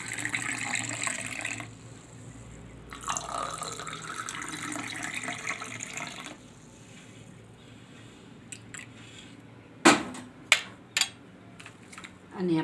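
Sugar water poured into a glass of lemon shikanji that already holds basil seeds: two bursts of steady splashing pour, close and fairly soft, separated by a short pause, then a few sharp clinks near the end.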